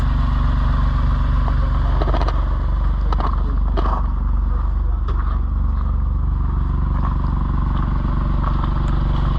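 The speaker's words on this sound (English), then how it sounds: "Really cool 3-cylinder engine, which is smooth." A small three-cylinder Curry engine in a John Deere Gator utility vehicle runs at a steady idle, a constant low throbbing hum with occasional clanks and rattles nearby.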